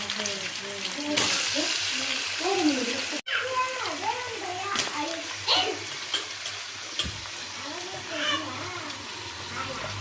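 Chicken fries in oil with garlic and green chillies, a steady sizzle with occasional stirring clatter, while a person talks over it for much of the time.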